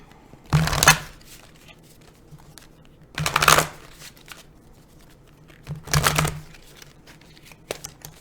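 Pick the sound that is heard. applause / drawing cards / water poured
drawing cards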